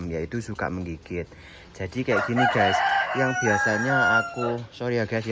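A rooster crows loudly in a rabbit-keeping area, its long drawn-out call rising over steady conversational talk.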